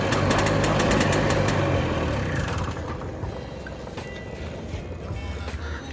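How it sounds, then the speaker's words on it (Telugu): A faulty TVS XL moped engine runs close by with a rough, rattling whir, loud at first and then settling to a steadier idle. "ఇంజన్ లోపల నుంచి మీకు కిర్రాన్ సౌండ్ వస్తుంది"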